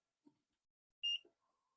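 A single short electronic beep from a surveillance server starting up after being plugged in, a clear tonal chirp amid faint soft clicks and handling noise in an otherwise quiet room.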